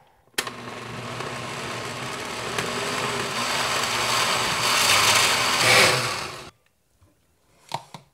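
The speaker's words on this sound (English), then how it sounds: "And then I'm just gonna blend it." A blender purees tomato sauce into sofrito, a steady whirring motor drone lasting about six seconds, then cutting off abruptly and leaving near silence with a couple of small clicks.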